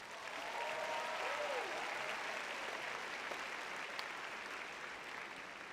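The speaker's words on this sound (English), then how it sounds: "Please give yourselves a round of applause today." A large crowd of graduates applauding at a university commencement, a broad, even roar of clapping heard at some distance and sustained without a break.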